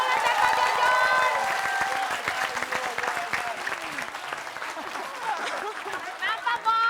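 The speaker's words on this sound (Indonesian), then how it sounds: "Tepuk tangan dulu dong buat Bang Mali, Pak Bola, dan Pak Jojon." Studio audience applause for comedians at an Indonesian comedy show, a dense wash of clapping and crowd noise that carries steadily throughout, with voices and laughter mixed in.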